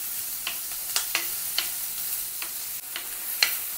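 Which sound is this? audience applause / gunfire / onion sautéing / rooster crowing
onion sautéing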